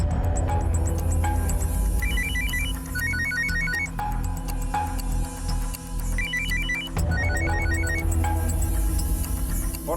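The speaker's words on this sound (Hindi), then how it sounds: "फोन उठा।" Telephone ringing in repeated electronic ringtone bursts, loud and steady over a dense background score in a crime drama scene.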